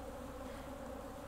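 Dense, steady hum of honeybees inside a strong hive, heard close and continuous with no voices, a soft even drone throughout.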